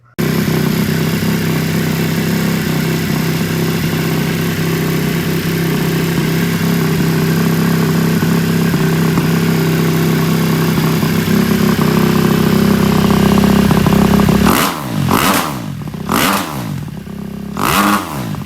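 A Kawasaki KX250F dirt bike, freshly repaired after a fuel leak, runs loud and steady at a close idle for most of the span, then gives several sharp throttle blips near the end.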